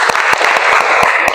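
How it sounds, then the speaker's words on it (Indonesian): A group in a classroom presentation session claps for a presenter, a short, loud burst of close, dense handclaps with a few sharper individual claps standing out. "Silakan kita tepuk tangan buat Afifah."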